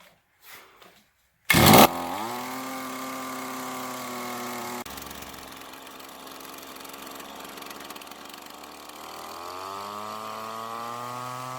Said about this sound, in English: they just need to run, between idle and full throttle for a bit